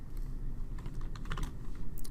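A quick run of crisp keystrokes on a computer keyboard, ending with a tab key press, heard up close with no talking.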